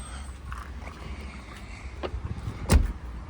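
The sunroof of a 1986 Mercedes 190 with a 2.0 petrol engine runs briefly, a soft electric motor whir inside the car that ends in a louder clunk as the roof stops.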